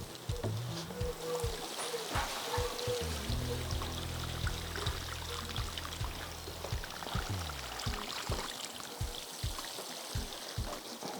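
Garden plants being watered in late summer, a steady pouring gush of water with trickling and splashing, fairly close and continuous, with a faint voice now and then.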